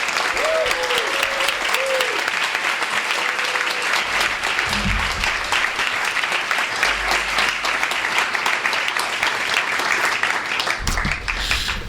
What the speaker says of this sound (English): So let's please give him a warm round of applause.